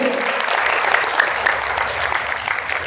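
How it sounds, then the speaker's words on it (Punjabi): Steady applause from a crowd fills the whole stretch, dense and fairly loud, with no pauses. "ਤਾੜੀਆਂ ਮਾਰੀਏ ਉਹਦੇ ਨਾਂ ਤੇ"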